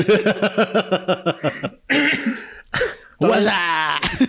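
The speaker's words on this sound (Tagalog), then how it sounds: "Ang ingay ng ubo mo" Loud, close coughing: a rapid run of short coughs, then a couple of harsher, longer coughs and a throat-clearing rasp.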